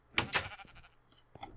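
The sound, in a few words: sheep bleating in Minecraft, from a video game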